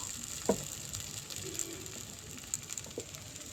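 Faint sizzle of thin rice batter poured bit by bit into an oiled sanjer pitha mould, a quiet steady hiss with small clicks and taps of the pouring.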